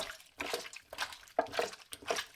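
Squid rinsed in a bowl of water in a home kitchen, with soft splashes and sloshing in irregular pulses, close but quiet, with no talking.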